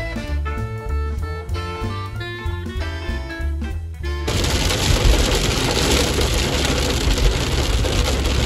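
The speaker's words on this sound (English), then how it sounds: "So it's pouring rain out" Pouring rain outdoors, heard as a loud, steady broadband hiss that starts abruptly midway through, after a stretch of background music.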